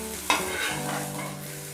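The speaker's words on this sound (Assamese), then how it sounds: "ইয়াক ইপিঠি সিপিঠি বাৰে বাৰে লুটিয়াই মই ফ্ৰাই কৰি আছোঁ" Eggplant slices frying in a pan, a brief close sizzle with a sharp utensil clatter as pieces are turned, steady crackle continuing afterward, no talking.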